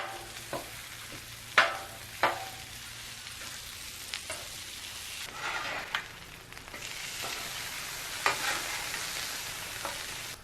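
One pound of 80/20 ground chuck sizzles on a Royal Gourmet griddle, a steady close frying hiss broken by sharp scraping and stirring taps from a spatula, with no talk.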